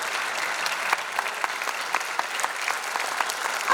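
Audience applause at an annual function of the Kalyan Ashram family, as a woman is invited onto the stage. Steady, dense clapping from a crowd continues evenly throughout, with no talk over it.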